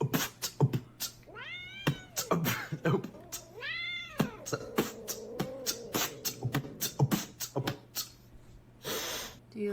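A distressed-sounding cat meows repeatedly in rising, drawn-out calls, close and fairly loud, mixed with snorts, sniffs and breathy noises, with a steady low hum beneath.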